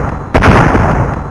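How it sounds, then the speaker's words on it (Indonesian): A single loud explosion bursts out suddenly, then a rumbling tail fades over the next second, in the animated series Battle Through the Heavens. "Suara ledakan terdengar ketika aura itu baru saja muncul."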